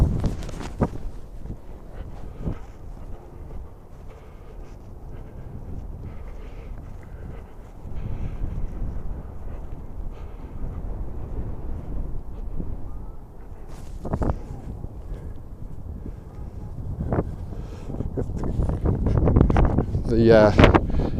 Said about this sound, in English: This electronic gimbal seems to be activated by the wind and it's spinning around.